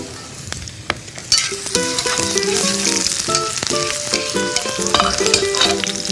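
Green onion roots and sliced garlic fry in a pan for grilled flounder, making a bright, busy sizzle that swells after the first second, with music playing underneath.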